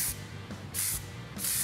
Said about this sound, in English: we're gonna go ahead and spray some undercoating on there before we get those frame members on